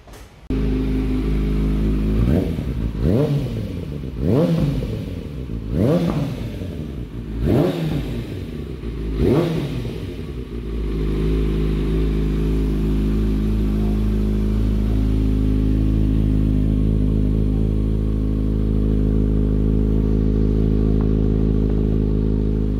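A Kawasaki ZX-6R 636 sport motorcycle fitted with a full Akrapovic exhaust, revved hard about five times in quick blips before settling into a loud, steady idle rumble, close and alone.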